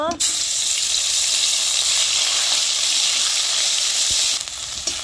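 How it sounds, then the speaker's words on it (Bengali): Onion and garlic paste sizzles and fries steadily in hot oil, a loud continuous hiss close by, with a sharp start and a brief dip near the end. "পেঁয়াজ রসুন হালকা করে ভেজে নিছি"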